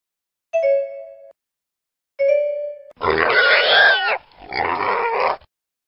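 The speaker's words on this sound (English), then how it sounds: "Pig." A pig grunts and oinks twice, two short nasal calls followed by a longer, rougher run of snorting grunts, close and clear with no talk.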